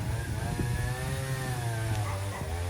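A chainsaw cutting a tree outdoors makes a steady, droning engine whine that shifts slightly in pitch. It is at moderate distance and heard alone, with faint background sounds.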